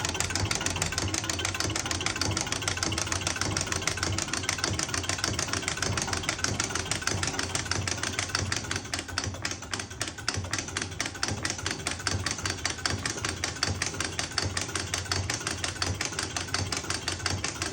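Car engine idling at steady speed during idle adjustment, with no throttle applied, giving a close, even, rapid mechanical ticking and hum that runs unbroken throughout.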